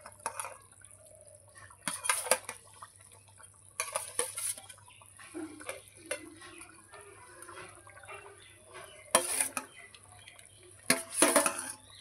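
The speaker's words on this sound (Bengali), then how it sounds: "এই যে ভাজা মাছগুলো দিয়ে দিচ্ছি।" Fried bata fish pieces go into a boiling curry with potatoes, making several separate splashing, bubbling bursts with quiet simmering and occasional utensil clinks in between.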